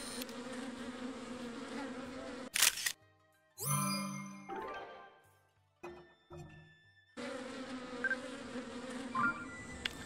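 Bees buzz in the video game Zelda: Tears of the Kingdom, a steady insect drone broken midway by a camera shutter click, chimes and short game tones before the buzzing resumes.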